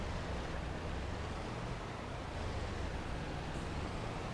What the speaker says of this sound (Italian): È sempre lo stesso ruscello questo, è la cascata che vediamo noi